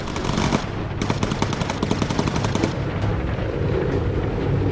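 Rapid bursts of machine gun fire from the bomber game Bomber Crew, loud and continuous at first, then thinning into a rattling volley against steady engine drone.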